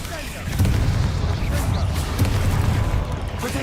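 Confringo blasting spell going off in Hogwarts Legacy, a loud booming burst with a rumbling blast tail, followed by further thumping impacts while a player speaks over it.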